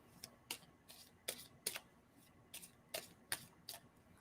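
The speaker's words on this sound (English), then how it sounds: "someone stop shuffling, Carlin?" Tarot cards are shuffled nearby in quiet, rhythmic flicks and snaps, about a dozen crisp ticks at a steady pace.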